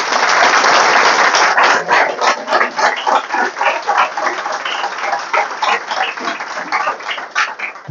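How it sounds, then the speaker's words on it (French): A crowd applauds steadily throughout at a political speech by Charles Blé Goudé, a dense, loud patter of many hands with no pauses that thins only slightly toward the end. "Il faut l'applaudir."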